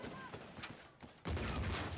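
Shots ring out in an Uncharted 4 multiplayer match: scattered bursts of gunfire, then a loud, dense volley from about halfway through, with excited voices talking over the action.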